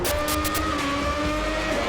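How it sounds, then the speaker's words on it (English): A V12 Formula 1 car in Assetto Corsa, racing in a 1994 season event at Canada. The engine gives a loud, sustained, high-pitched whine that stays steady at near-constant revs and fills the whole stretch. "But this V12 just drowns out his V10 completely. I only hear my car."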